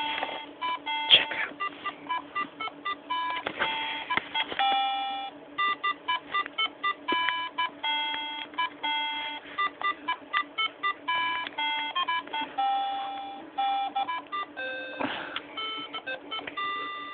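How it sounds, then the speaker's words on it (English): Simple electronic beeping melody from a handheld LCD laser game, a monophonic ringtone of short repeated tones in a steady rhythm, fairly loud and close, with no talking. "it's got a loud ring, mono ringtone."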